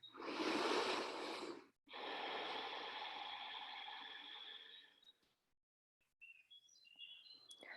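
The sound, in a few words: deep breathing during a prenatal yoga twist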